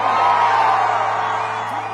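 A large crowd in Utah roars and cheers as Charlie Kirk arrives on stage, a loud, sustained wall of whoops and yells with no break.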